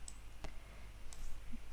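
Two or three crisp, isolated clicks, like a computer mouse button, spaced apart over a faint steady background hum while working in 3D modelling software, with no voices.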